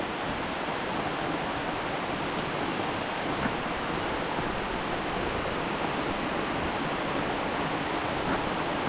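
Steady, dense hiss of rain falling over a tomato garden, an even wash of noise with no pauses or voices.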